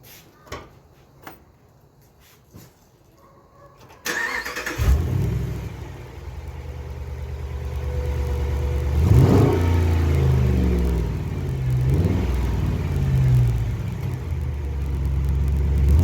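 A Dodge Durango R/T engine cranks and catches after a few faint clicks, then settles into a loud, close idle with several throaty revs rising and falling, all with no talking.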